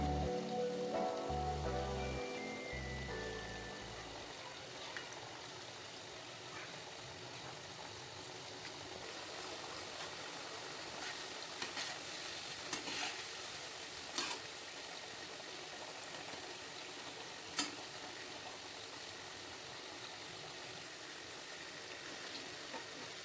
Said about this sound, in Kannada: ಇದರಲ್ಲಿ ಒಂದೊಂದಾಗಿನೇ ಬಿಟ್ಬಿಟ್ಟು ನಿಧಾನ ಉರಿಯಲ್ಲಿ ಚೆನ್ನಾಗಿ ಫ್ರೈ ಮಾಡ್ಕೋಬೇಕು